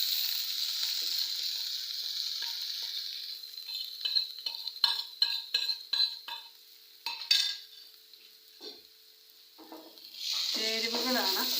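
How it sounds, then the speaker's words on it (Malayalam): Ground coconut spice paste dropped into hot oil in a pot for papaya curry, an initial loud sizzle that fades as a spoon clinks and scrapes in quick bursts, then the frying surges loudly again near the end. "ഞാൻ അരച്ച് വെച്ചിരിക്കുന്ന ഈ ചേരുവകളാണ് ഞാൻ ആദ്യം ഇങ്ങോട്ട് ഇടാൻ പോകുന്നത്"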